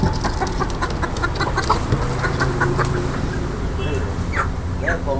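Country chickens cluck and squawk at a busy market, close and repeated over constant background chatter, traffic noise and people talking.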